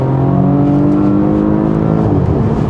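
A 2020 Porsche Panamera 4 e-Hybrid in Sport Plus mode accelerates hard on a winding road, its engine note rising steadily in pitch as revs climb, loud and close from inside the car.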